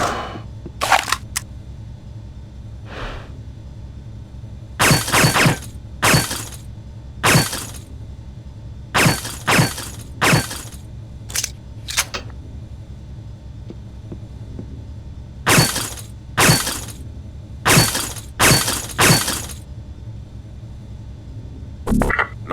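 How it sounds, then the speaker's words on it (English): Glass bottles shattering one after another as they are shot during target practice in the Red Faction video game, sharp loud crashes in uneven bursts and quick pairs separated by quiet gaps. "Be sure to destroy all the bottles."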